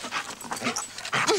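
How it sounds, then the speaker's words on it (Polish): A dog pants and snuffles close by in quick, uneven breaths, ending with a short high whine. "Szari! No, jesteś! Dobry pies"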